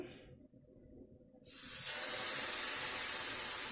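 Thin pancake batter made with mineral water hits a hot, oiled frying pan, setting off a sudden loud, steady sizzle that starts after a quiet moment and holds through the rest.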